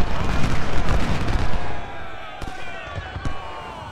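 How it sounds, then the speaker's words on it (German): Civil War cannons firing in a strategy game, a cluster of heavy booms rolling together at first, then two sharper isolated blasts as the barrage thins, while someone talks over them. "So, Kanonen bereit machen und Feuer."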